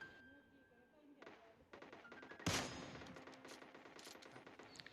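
Gunfire in the mobile battle-royale game PUBG Mobile Lite: a sudden loud burst of shots midway, followed by rapid repeated gunfire and game noise, with quieter ambient game sounds before it.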